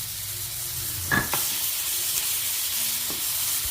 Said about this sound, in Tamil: தக்காளி போட்டாச்சு. தக்காளி நல்லா வதங்கணும்.